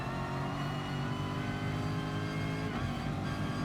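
Race car in Gran Turismo Sport braking into a turn at the Alsace Village track, a steady loud engine drone with layered harmonics that wavers slightly near the end, no talking.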